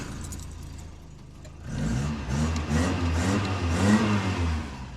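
A Ford Escort Mark III engine, recently refuelled after running rough, rises from a low idle into a steady, close revving drone that holds for several seconds with no talk.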